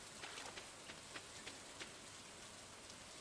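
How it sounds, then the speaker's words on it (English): Rain in the farming video game Stardew Valley, a soft, steady patter with scattered louder drops tapping irregularly throughout, quiet and alone without talk. "it is raining"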